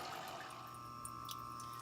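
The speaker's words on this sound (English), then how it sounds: "That's groundwater trickling back into the pit." Groundwater trickles back into a sump pit, a faint steady watery trickle under a constant low hum with a few soft drips.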